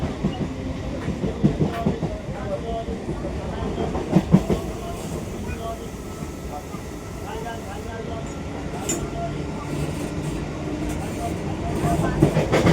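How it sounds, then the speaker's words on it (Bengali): A train rolls in alongside a station platform, its steady rumble and clickety-clack rising toward the end, with people talking nearby underneath. "ট্রেন আসছে,"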